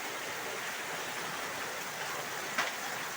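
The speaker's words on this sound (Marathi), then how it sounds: "आज बघा पाऊस भरपूर आहे बघा" Steady heavy monsoon rain pours down over village rice fields as a dense, even hiss, broad and continuous, with no voices over it.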